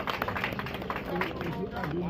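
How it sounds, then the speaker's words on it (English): A crowd at a road commissioning event in Oriade, Lagos gives a round of applause, a steady, moderately faint patter of clapping mixed with crowd murmur and some talking. "Please, a round of applause for him"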